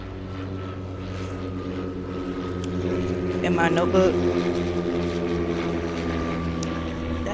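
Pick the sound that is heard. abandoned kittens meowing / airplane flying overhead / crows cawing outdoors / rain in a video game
airplane flying overhead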